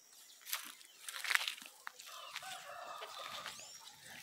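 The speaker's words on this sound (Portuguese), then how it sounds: "Soltei o galo suro, ó, com as galinhas." Chickens clucking with a rooster among them in a farmyard, several birds calling in overlapping bursts, some close and loud and others fainter, with no talk.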